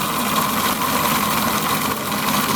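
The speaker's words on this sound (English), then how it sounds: "you can lift the engine up off the rails and run it so you can test it" A model train locomotive runs in place on a test stand, giving off a steady, close whirring motor hum with a constant drone and faint rattle, uninterrupted and without talking.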